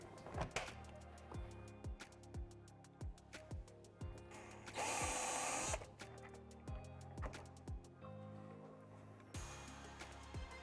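A power tool tightens the quick-release bolts of a Tusk fender flare kit on a Can-Am Maverick X3, giving a quiet series of evenly spaced mechanical knocks with one longer, louder whirring burst midway, no voices.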